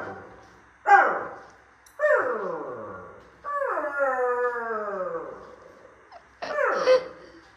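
A dog barking and howling outside, four drawn-out wavering howl-barks spaced a second or two apart, fairly close and loud against quiet background.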